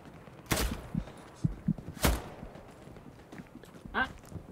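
Two sharp, loud rifle shots ring out a second and a half apart in the World War II shooter Hell Let Loose, aimed at a teammate's knee, with soft thumps and footsteps in between and a faint tonal blip afterward.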